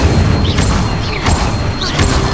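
A fiery Incendio spell from the video game Hogwarts Legacy, cast amid other spell effects: a string of loud whooshing bursts and booms with bright sweeping magical tones over a dense, steady game soundscape, no talk.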